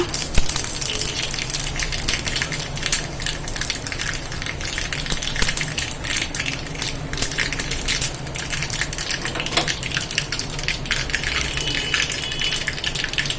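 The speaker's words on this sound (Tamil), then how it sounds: "கடுகு வெடிச்சிருச்சு." Mustard seeds crackle and pop in hot oil, a dense, continuous sizzling spatter with sharp little bursts throughout.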